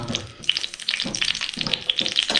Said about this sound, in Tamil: கொஞ்சம் நேரம் நல்லா அப்படியே எண்ணெயில் வதங்கிக்கிட்டே இருந்தால்